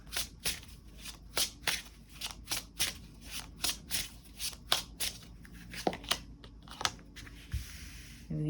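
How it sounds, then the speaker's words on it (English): Tarot cards are shuffled in a steady run of crisp, close riffling bursts, each a sharp papery flutter repeating roughly twice per second, heard alone without talk. "you could just chill and watch me shuffle"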